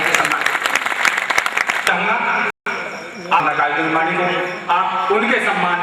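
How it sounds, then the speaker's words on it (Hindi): Applause from an audience fills the first two seconds, then breaks off as someone speaks over a loudspeaker in a reverberant hall. "एक बार जोरदार तालियां"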